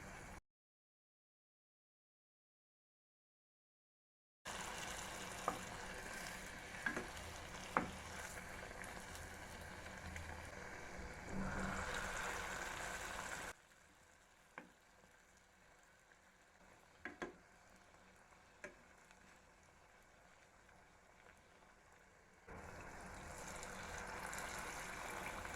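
Wheat flour dough snacks fry in hot oil in a pan, giving a steady broadband sizzle with a few sharp pops. The sound starts after a brief silence and drops in level partway through.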